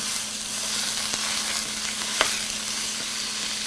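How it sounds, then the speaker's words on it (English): A pound of ground lamb browns in a hot pot for a ragu, giving a steady, close sizzle of frying with a faint low hum and one sharp clink of a utensil partway through; no one speaks. "here we have a pound of ground lamb. So I'm going to put that in. and get this browning."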